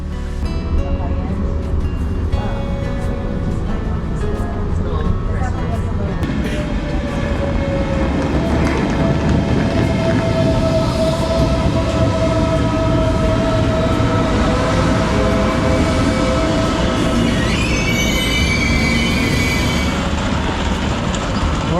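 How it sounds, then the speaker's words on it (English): Passenger train riding out of Lisbon, heard from inside the carriage: a loud, continuous rumble of wheels on track with rattling, occasional faint squeals, and voices murmuring under the noise. "We're on the train."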